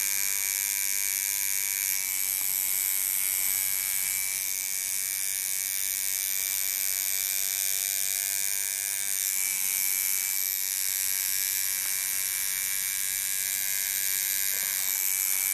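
A tattoo machine used for gentle shading buzzes steadily and close up, a continuous electric whine with slight pitch shifts and short pauses, and no voices over it.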